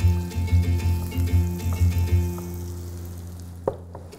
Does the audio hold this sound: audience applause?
no